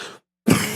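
A single sharp, close cough from a man during a live trading lesson, coming right after a brief moment of silence with no talk over it.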